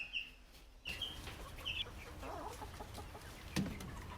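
Young chickens, roughly ten to eleven weeks old and kept outside, clucking in short scattered calls, fairly close over a quiet outdoor background with a few soft rustles.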